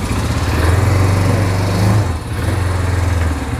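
Engine of a 2025 Big ATV 200 Hammer Pro with an upright engine and automatic CVT, running loud and close as a steady buzzing drone that rises in pitch, then drops briefly and settles, with no talking.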